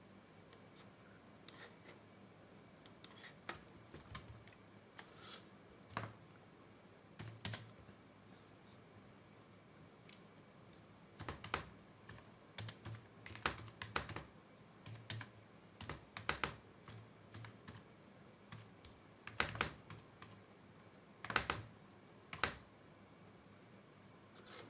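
Steady, quiet typing on a computer keyboard while entering text for a flex banner design in CorelDRAW, with irregular clusters of close key clicks over a long stretch.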